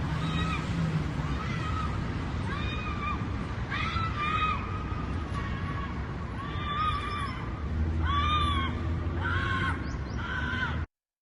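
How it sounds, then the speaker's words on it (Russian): A person screaming wildly, a string of loud, strained, wailing cries repeated again and again over a constant rough background roar, cutting off abruptly at the end. "Не, это человек диким криком орет, как будто из него нечисть выходит."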